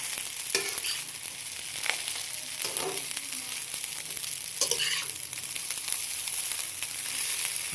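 Garlic-and-onion fried rice sizzling and being stirred in oil left from frying dried tamban fish, a steady close hiss with repeated spatula scrapes and clinks, no talk.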